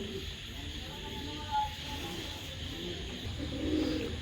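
Pigeons in a loft of large show birds kept for sale, with low soft cooing that runs on through the clip under steady background noise.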